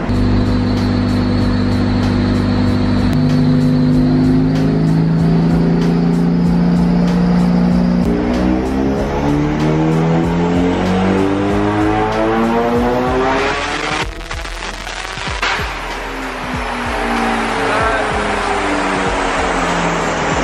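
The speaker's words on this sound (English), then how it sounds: "Having trouble getting the proper power run because we're just spinning wheels." A 500 bhp Toyota AE86 drift car engine revs hard on a dyno with wheels spinning, climbing steadily in pitch, holding high before dropping and rising again, loud and close with a whining, spinning tone.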